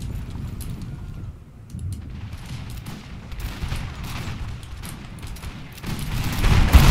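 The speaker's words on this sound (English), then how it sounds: "my artillery is firing down, not sure where actually" Cannon fire from artillery in the Napoleonic-era strategy game Napoleon Total War at the Battle of Ulm, dense rumbling battle noise with repeated booms building louder toward the end, no speech.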